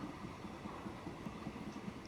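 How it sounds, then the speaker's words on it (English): A train rumbles and clatters as it starts off in the railway simulation game Transport Fever 2, a steady low mechanical drone with no voices over it. "we press play for our first train"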